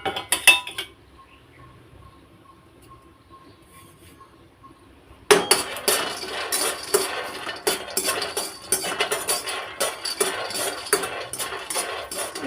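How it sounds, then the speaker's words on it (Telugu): Peanuts tipped into a hot kadai on a village stove, a brief clatter first, then a quiet pause, then a dense, continuous rattling and clinking of nuts being tossed and stirred against the metal pan, close up. "ఇవి కొద్దిగా అంతా పల్లీలు వేస్తున్నాను."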